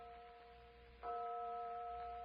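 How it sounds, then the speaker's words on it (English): A distant church bell toll used as a radio drama sound effect: a faint sustained tone with a clear, ringing strike about midway that hangs on, no voices. "Just the phantom church bell again."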